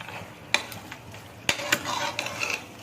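Natti-style green mutton chops fry in a pan, with a few sharp spatula scrapes and clinks over a faint, continuous sizzle.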